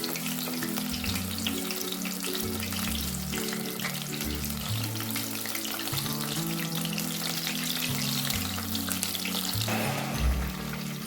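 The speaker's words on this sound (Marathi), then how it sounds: "क्रिस्पी असे तळून घेणार आहोत आपण." Soya chunks deep-fry in hot oil until crispy for soya chilli, a dense, steady close-up sizzle and bubbling that continues throughout without speech.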